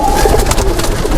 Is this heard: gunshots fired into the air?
no